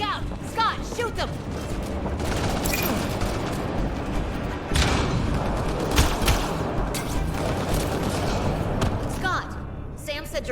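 Combat gunfire in Mass Effect Andromeda: steady bursts of shots with scattered thumps and impacts that continue throughout, under voices shouting and talking.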